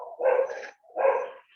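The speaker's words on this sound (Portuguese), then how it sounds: "Ó, tem um cachorro latindo forte." A dog barks loudly twice in quick succession, each bark a strong, close yelp with a short pause between, heard over an otherwise quiet open microphone during an online Portuguese-language class.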